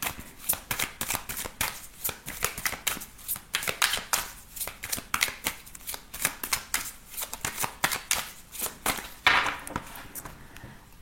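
Tarot cards being shuffled by hand, a rapid run of crisp riffling flutters and soft slaps in an uneven rhythm, close and clear with no talking.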